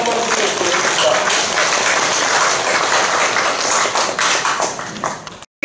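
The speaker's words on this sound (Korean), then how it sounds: "우리 감사 박수 한번 드리겠습니다." Thankful applause from a congregation at a Monday worship service in a large auditorium in Korea, a loud, sustained crowd clapping that thins out and stops near the end.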